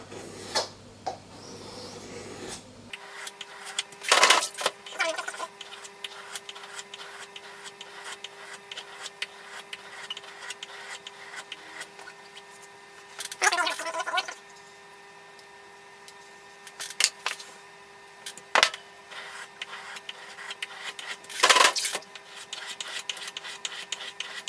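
A knife blade being sharpened on a 1200 grit whetstone gives a steady close rasping scrape running throughout, with a few louder strokes standing out at intervals.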